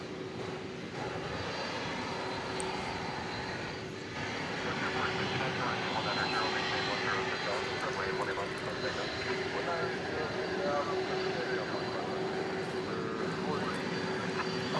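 A Boeing 787-9 Dreamliner at DFW Airport taking off at night, a broad steady jet roar holding at a distance throughout, with a person talking over it at times.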